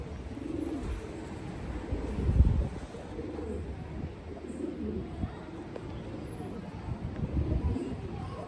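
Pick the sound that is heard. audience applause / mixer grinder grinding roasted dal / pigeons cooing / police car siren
pigeons cooing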